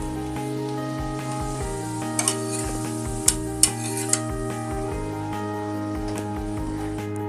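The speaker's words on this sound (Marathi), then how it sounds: "हे बघा, हे खरपूस भाजून झाले आहेत।" Wheat thalipeeth flatbread cooking on a pan, a soft steady sizzle with low hum and a few sharp clinks of a spatula near the middle.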